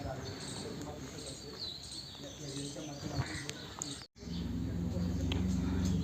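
Sparrows and other small birds chirp and tweet in bursts around Pisavare bird village in Bhor, near Pune, over a busy ambient background with a brief dropout near the end and murmuring voices underneath.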